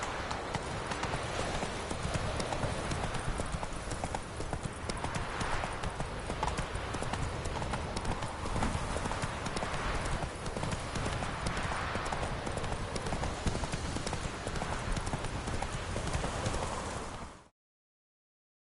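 A horse galloping in The Witcher video game, giving a dense, continuous drumming of hoofbeats that stays loud and steady throughout before cutting off abruptly at the end.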